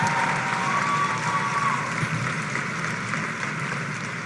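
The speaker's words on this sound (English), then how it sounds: "Give them a round of applause, please." Audience at a motivational speaking event applauding steadily after a couple is asked to stand, a dense continuous wash of clapping throughout with a faint tone riding above it.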